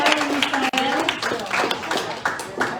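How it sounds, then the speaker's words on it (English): Applause at a Saturday county election meeting as a guest walks in the door, scattered claps and cheering mixed with loud voices talking and calling out greetings over the noise. "We're going to have to give him a big round of applause when he comes in"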